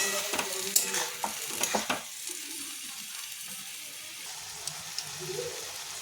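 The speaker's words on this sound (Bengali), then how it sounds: "ভালো করে এগুলো সব একসঙ্গে ভেজে নেব।" Potatoes, onion and onion greens frying in a pan, with a few scraping stirs early on before settling into a quiet, steady sizzle with occasional small pops.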